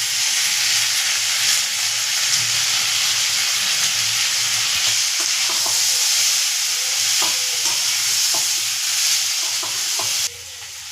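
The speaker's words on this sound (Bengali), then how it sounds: "এবার বাকি মশলাগুলো আমি দিয়ে দেবো। ধনে আর জিরে গুঁড়ো আর হলুদ গুঁড়ো আর পরিবার মতো নুন, এইটা আমি দিয়ে দেবো।" Ground coriander, cumin, turmeric and salt frying with ginger and green chili in a pan while being stirred, a loud steady sizzle with scraping stir strokes, no voices.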